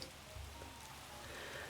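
Steady rain ambience in a room-decorating video game, a soft continuous patter of drops on a surface, faint and even throughout with no voices.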